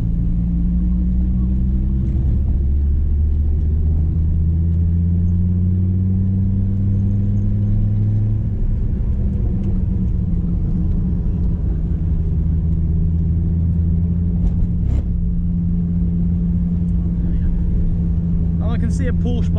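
Dodge Viper SRT engine on a track lap, a deep, loud droning roar with pitch shifting as the car brakes and accelerates, heard from inside the cabin, while a driver talks over it.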